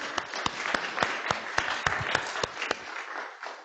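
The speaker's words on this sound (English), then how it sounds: "applause, everyone." Audience at a KITP conference welcome claps for the conference coordinator, a moderate, fairly distant patter of clapping that continues steadily and then fades away.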